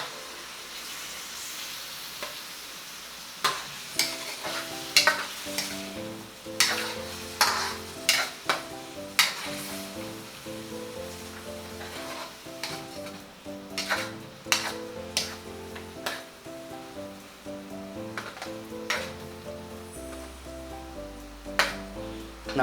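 Pancit noodles sauteing in a pan with dark soy sauce, hoisin and sugar, a soft sizzle under repeated scraping and clacking of a utensil stirring against the pan, uneven bursts close by, with background music throughout.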